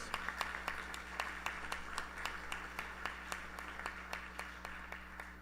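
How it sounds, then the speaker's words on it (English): A congregation at a Krishna Mandir anniversary service gives a round of applause, sparse, faint clapping with distinct single claps in a loose rhythm over a low steady hum. "give the members of the Sri Sivak Sabha a lusty round of applause"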